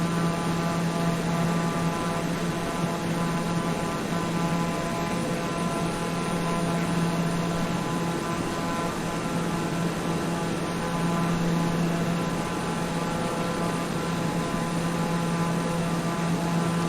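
A light aircraft's engine drones steadily in flight, an even, unbroken hum and propeller buzz that holds at the same level throughout.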